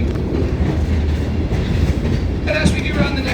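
A tourist train rolls slowly along the rails, its steady low rumble and rhythmic wheel clatter continuous and close throughout, with a brief higher squeal of wheels near the end.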